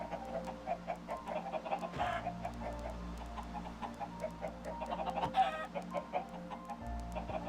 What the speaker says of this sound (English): I'm going to just spawn these chickens in